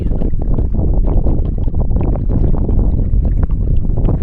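Heavy wind buffets the microphone during a kayak paddle at Merritt's Mill Pond in Florida, a loud, constant low roar and rumble that fills the whole stretch with no clear voice above it.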